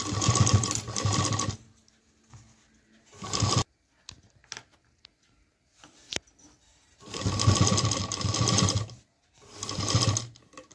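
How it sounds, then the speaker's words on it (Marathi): A domestic sewing machine stitches a fabric tiffin lunch bag in short loud whirring bursts separated by pauses, with small clicks and handling noises between the runs. "तर आता आपण हे शिलाई करून घेऊयात."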